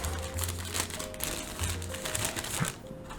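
Plastic packaging crinkles and rustles in brief handled bursts as a spare cord for a Gwolves Hati S Classic Edition gaming mouse is tucked back into its box, with a low steady hum underneath.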